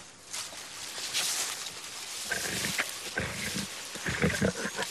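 Lions growl and roar over a carcass in the wild, close and loud, with rough rumbling snarls overlapping in bursts and a few soft rustles, no talking.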